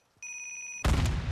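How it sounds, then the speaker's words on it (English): A Semtex grenade from Warzone 2 with the older MW2 audio pack: a steady high electronic beeping tone, then a sudden loud close blast that rumbles on through the end. "apparently the Semtex has a different sound"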